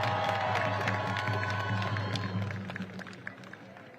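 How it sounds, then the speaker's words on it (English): A crowd at an outdoor march on Washington cheers and claps, loud at first and then thinning into scattered claps and a few shouts as the noise fades. "Please give him a round of applause."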